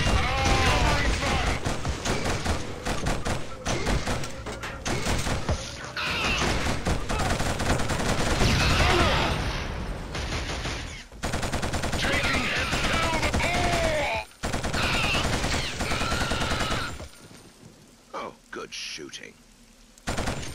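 Dense gunfire in a Killzone firefight, sustained rapid bursts of machine-gun and rifle shots almost without pause, dropping away briefly near the end before firing resumes, with battle shouts mixed in.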